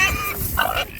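Pigs on a farm, a brief cluster of short grunts and squeals, fairly close, lasting about a second.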